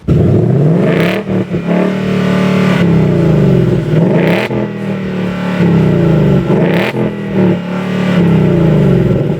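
A 2022 Ford Mustang Mach 1 engine revs hard again and again, loud and close, its throaty roar rising and falling in repeated bursts with no talking.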